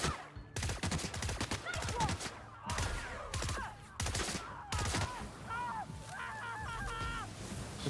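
Pistol gunfire in a video game set in an abandoned settlement: a dense burst of sharp shots up front, then spaced bursts of repeated cracks, with chirping electronic effects and a voice in the later part.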